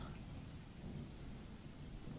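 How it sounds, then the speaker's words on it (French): Steady rain falls with a low, continuous thunder rumble underneath, an even and dense wash of storm noise with no distinct drops or cracks. "la pluie qui tombait en fines gouttelettes formait de petites flaques d'eau"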